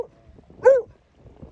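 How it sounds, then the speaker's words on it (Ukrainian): A single short dog bark or yelp from a pet dog out on a walk in a park near swans, loud and close, with quiet outdoor background around it. "Це знаєте, чого гавкає?"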